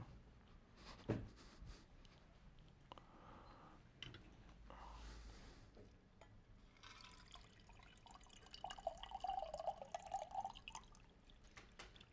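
Water being poured into a glass during a break in a conference talk at a Python programming event, with faint drips and trickling building near the end amid quiet room noise.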